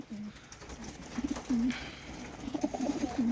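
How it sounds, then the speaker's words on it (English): Racing pigeons coo softly in a loft, with several short, low, throaty calls repeating irregularly at close range over quiet background noise. "Here's our young birds."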